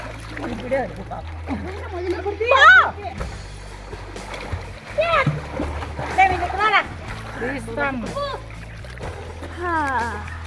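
Children splashing while swimming in water at a village in Andhra Pradesh, with moderate, steady splashes throughout and several children's voices and chatter over them.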